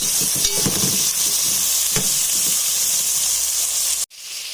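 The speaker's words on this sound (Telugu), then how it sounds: "ఆ జిగురు అనేది తగ్గే వరకు మనం వేపుకోవాలండి బెండకాయని." Okra frying in a pan with turmeric, a steady close sizzle and hiss running throughout with occasional stirring clatter, cutting off abruptly near the end.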